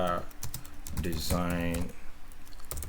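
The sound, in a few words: typing on a computer keyboard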